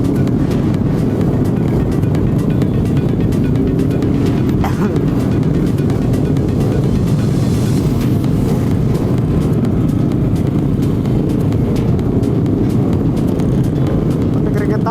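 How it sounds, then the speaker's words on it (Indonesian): Heavy traffic jam on Pettarani road in Makassar during a Sunday motorcycle ride, a dense continuous drone of engines close by, with people talking over it. "Wah, sampai macet begini cuy."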